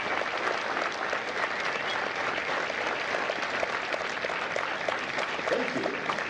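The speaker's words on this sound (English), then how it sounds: "Ladies and gentlemen, a round of applause for their dedicated service to war and country." Sustained audience applause at a Marine Corps recruit graduation in San Diego, dense continuous clapping from a large crowd filling the whole stretch at an even level.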